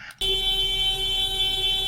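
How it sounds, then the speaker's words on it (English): A car horn sounds abruptly after a brief quiet moment, then holds as one loud, continuous, steady blast. "his buddy starts honking at him"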